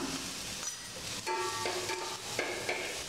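Ginger garlic paste sautéed with onion and capsicum for chilli idli, sizzling softly in a pan while a spoon stirs and scrapes in short strokes, with no voices.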